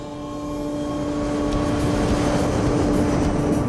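Airliner engines on approach to landing at Baghdad, a steady loud drone with strong sustained tonal hum throughout, rising slightly in intensity over the first second.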